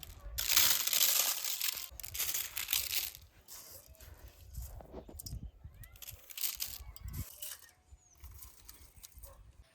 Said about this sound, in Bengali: এবার একটু এই কুলোর উপর মেলে ঝরঝরা করে নেবো চালটা